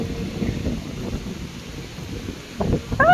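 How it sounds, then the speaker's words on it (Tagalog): Heavy habagat rain and thunder in Boracay, a steady broadband wash of downpour with a rumbling surge near the end, loud and close, with no talking. "Ulan pa more."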